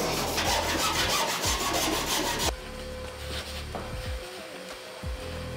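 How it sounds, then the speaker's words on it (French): Cut sheet metal on a van roof is deburred with a hand file, making loud rough rasping strokes that stop abruptly. Quieter scraping rubs follow in short bursts. "On va pouvoir passer à l'ébavurage pour enlever la limaille de fer, enlever les petites aspérités du métal."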